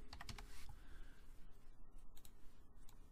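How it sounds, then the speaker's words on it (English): Typing on a computer keyboard, a quick cluster of clicky keystrokes at the start followed by softer, scattered taps, faint and close. "I'm going to go ahead and type the established 2021."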